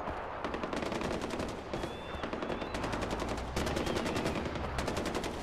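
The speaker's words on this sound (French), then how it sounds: "Qui tire?" Sustained automatic gunfire in Far Cry 4, dense rapid bursts of shots rattling on continuously and loudly for the whole stretch with no pauses, with faint tonal game sounds in the background.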